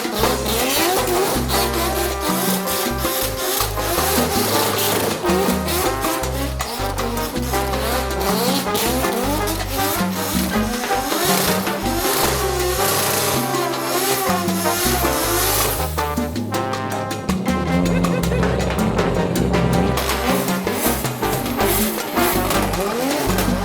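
A car doing donuts in a yard, its engine roaring and revving continuously at high volume with tyres squealing and skidding throughout, loud and close.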